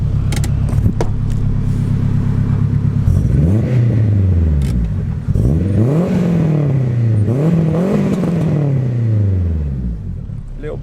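A turbocharged Honda Integra DC5 pulls away and drives on, its engine rising and falling through several gear changes, loud and close with a whirring tone and a short pause mid-way.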